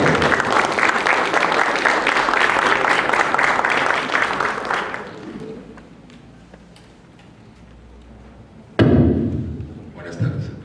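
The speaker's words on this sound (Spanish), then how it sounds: "Lo recibimos con un fuerte aplauso" An audience applauds loudly and steadily for about five seconds to welcome an engineer at a gathering, then the clapping fades out. A sharp loud burst near the end brings a brief second round of claps.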